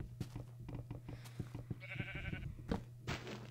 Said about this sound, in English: Alright, I'm gonna kill that sheep for a piece of wool.